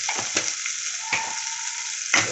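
Onions fry in a pan for green vegetable biryani, a loud steady sizzle with a few sharp spatula scrapes and crackles breaking through, heard close with no voices.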